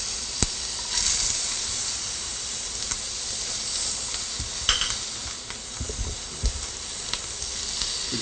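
Food searing in hot oil in a pan gives a steady close sizzle, with scattered pops and crackles throughout and no talking.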